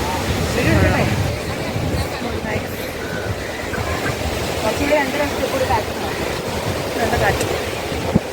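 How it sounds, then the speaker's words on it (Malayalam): Strong wind gusts across a crowded beach in Pondicherry, a continuous loud roaring rush that blends with surf, while voices mingle in the noise. "നല്ല കാറ്റ്."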